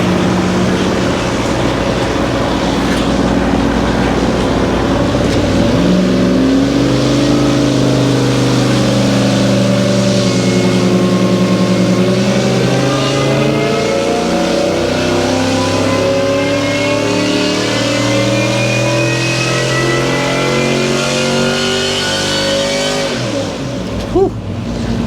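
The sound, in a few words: supercharged engine revving on dyno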